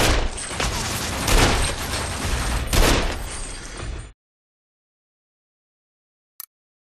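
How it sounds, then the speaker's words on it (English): Hand cannon fire in the video game Sunset Overdrive, a loud dense burst of rapid shots lasting about four seconds, then silence broken by one short sharp click. "You'll feel lucky using this hand cannon to send punk-ass enemies to the grave!"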